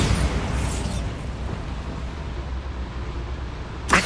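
Bombarda spell explosion in Hogwarts Legacy, a loud burst at the start decaying into a rumbling tail, then a sharp crack near the end.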